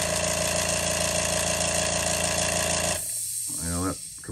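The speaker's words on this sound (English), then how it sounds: "Well, that compressor is fixing to die" An airbrush air compressor on a lure painting bench runs with a loud steady hum for about three seconds, then cuts out abruptly, leaving a faint hiss and a brief rising mechanical whine.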